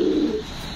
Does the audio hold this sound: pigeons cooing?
yes